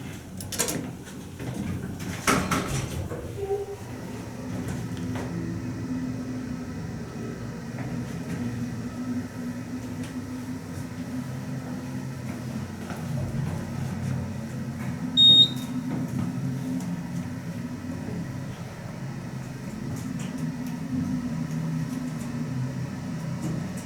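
A rare, long hydraulic elevator at the Kemper Art Museum in St. Louis runs on a steady, low motor hum that carries on without a break, after a few loud clunks at the start and a short beep midway.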